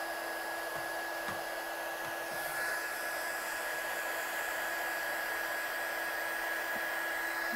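Heat embossing gun blowing hot air for card crafting, a steady loud whirring hiss that holds unbroken from start to finish, close by with no speech.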